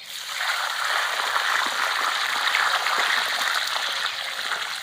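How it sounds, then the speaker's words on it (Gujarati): A bucket of water is poured out onto a chikoo tree, a steady splashing gush at close range that holds for about four seconds and tapers off slightly at the end. "આખી ડોલ ઠપકારી ગયું"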